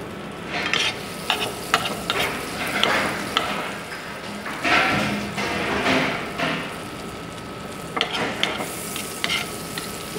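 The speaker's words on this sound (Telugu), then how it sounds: "సో బటర్ని కొద్దిగా లైట్గా మెల్ట్ చేసుకున్నాము" Butter melts in a pan while a utensil stirs and scrapes it, giving a soft sizzle with intermittent clinks and scraping strokes, close and fairly quiet.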